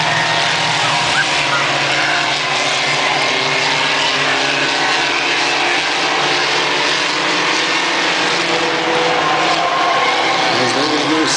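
Charger class race cars roar around Lebanon I-44 Speedway in a steady, loud wash of engine noise, with a race announcer talking over the pack.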